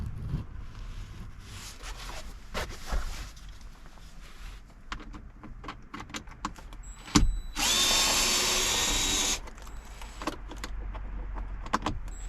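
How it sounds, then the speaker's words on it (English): A power drill backs out glove box screws in a Chevy Silverado cab, a loud, steady whir for about two seconds, with nearby clicks, rustling and handling noises before and after. "Taking out the screws that hold the glove box"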